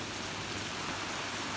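Torrential night rain pours down steadily in a dense, unbroken hiss, loud and close, with no voices and no pauses across the short stretch.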